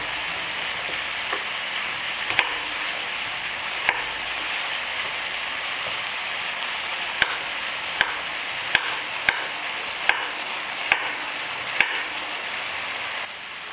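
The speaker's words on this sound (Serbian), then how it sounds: "Dok se luk i meso prže, iseckat ću 2 šargarepe." Knife chopping two carrots into small cubes on a board while onion and meat fry nearby: a steady sizzling hiss throughout, broken by sharp, irregular chopping clicks that speed up toward the end.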